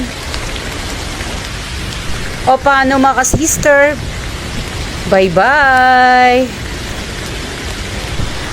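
Steady rain pours down close by at night, a dense hiss throughout, while someone speaks briefly over it.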